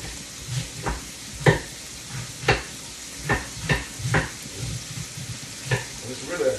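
Celery sautes in a pan with a steady sizzle, broken by about a dozen sharp stirring scrapes and clinks at irregular intervals, close and moderately loud.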